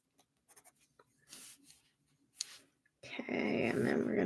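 Light scratchy scraping of a Kalour pencil on paper in short bursts, then a louder, steady rough scraping that continues to the end.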